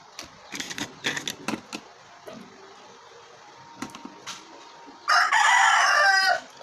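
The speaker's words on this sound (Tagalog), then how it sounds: "Ayun na naman yung mga manok." A loud rooster crow near the end, after scattered clicking and tapping sounds; no talking.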